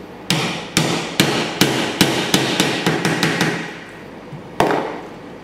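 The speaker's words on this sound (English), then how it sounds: "now give it a rap with a rawhide hammer" A run of sharp, even rawhide hammer raps on a wooden dowel, about a dozen in quick succession, then a pause and one final knock, close and loud.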